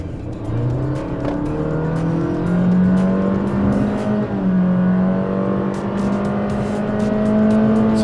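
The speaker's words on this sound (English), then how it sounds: "And let's listen to the CVT again." Engine and CVT transmission of a Honda WR-V revving steadily while driving, a continuous droning whine that rises and holds in pitch over road noise heard from inside the cabin, with no talking.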